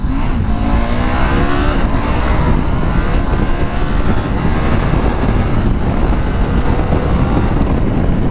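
A 2022 Husqvarna Norden 901 motorcycle engine pulls hard and steadily under acceleration from about 57-60 km/h, a loud, continuous roar with rising revs and no voices.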